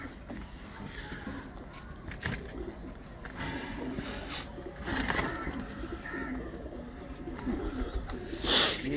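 Ababil bloodline breeder pigeons coo steadily at a loft, with low, continuous cooing and occasional wing flutters, plus a brief sharper sound near the end.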